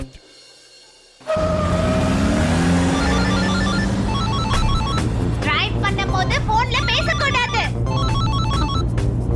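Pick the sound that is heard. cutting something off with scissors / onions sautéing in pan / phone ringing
phone ringing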